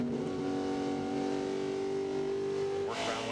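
NASCAR Craftsman Truck Series race trucks at New Hampshire in 2000 give a sustained, tonal engine drone, heard as one steady mechanical roar over the whole stretch, with a brief shift near the end.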